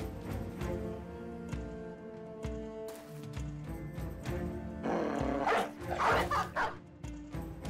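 A dog barks a few times inside the video game Battle Brothers, short yaps and whimpers set over a steady game soundscape with music, with no talking.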